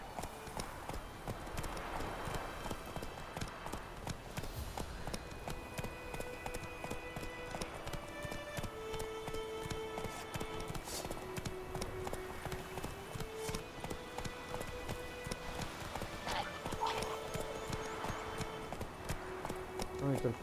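Horse hooves clip-clop at a steady gallop in The Witcher 3, looping continuously for the whole stretch over ambient game music, with someone talking intermittently on top.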